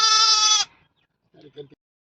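A sheep gives one loud, clear, drawn-out bleat close by, followed by a brief faint sound a moment later, at a shepherd's farmstead.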